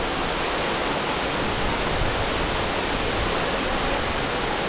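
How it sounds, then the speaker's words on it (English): The Seven Wells waterfall in Langkawi, Malaysia, a steady, loud, broadband roar of falling water, close and unbroken throughout. "a waterfall."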